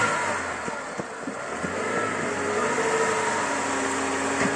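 Lada Niva off-road car engine revving in a forest as it struggles out on a long summer off-road trip, a steady droning motor with rising revs, close and loud throughout.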